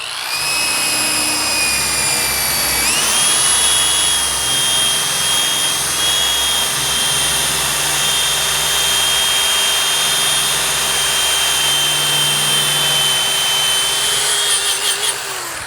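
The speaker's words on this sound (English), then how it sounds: "The rotational allows you to like bend it and apply pressure and really start taking the rust off." Handheld rotary tool scouring rust off a truck, a steady loud high-pitched whine with grinding friction that holds nearly unchanged throughout, with a brief pitch shift early on and no voices.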